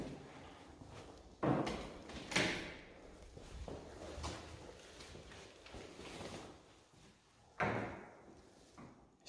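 A locked door at a Catholic school is tried, giving a few heavy thuds and rattling knocks with scraping in between, a couple of louder bangs standing out against a rough, noisy indoor background with no talk.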